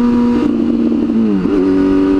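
A big-bore 98 cubic inch Harley-Davidson motorcycle engine revs up close and loud, its pitch climbing, dipping briefly, then holding steady at a higher note.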